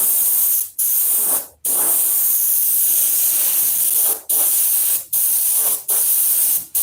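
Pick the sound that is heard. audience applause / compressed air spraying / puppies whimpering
compressed air spraying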